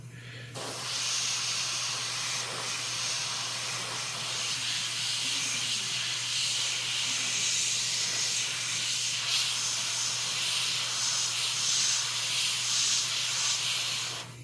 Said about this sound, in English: airbrushing